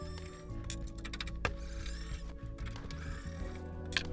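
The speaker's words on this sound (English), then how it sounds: "Nice and easy with the electric screwdriver." An electric screwdriver whirs and ratchets in short, uneven mechanical bursts while undoing the power supply screws of a Dell office computer during a case swap, close up with clicks and brief pauses and no talking.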